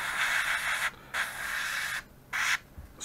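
An aerosol can of black paint hisses in three bursts onto a 1/72 Airfix Spitfire model kit, a long spray, a shorter one and a brief final blast, separated by short pauses, close by.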